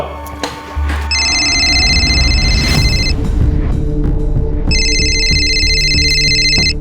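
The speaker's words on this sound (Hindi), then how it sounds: "सर फाइनली एक कॉल आया है" A mobile phone rings with an incoming call, a loud, repeating electronic ringtone in two bursts over background noise, no talk.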